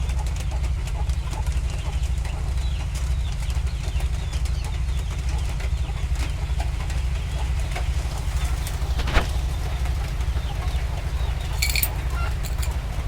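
Egyptian and local hens with their chicks on a farm make soft clucking and cooing calls over a constant low hum, with an occasional brief sharper note.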